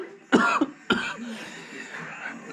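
Two distinct coughs, loud and close, the second following about half a second after the first, with a quieter trailing throat sound and room noise afterward.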